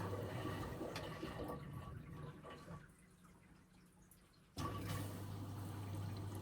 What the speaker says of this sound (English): There's little pulse fills it does.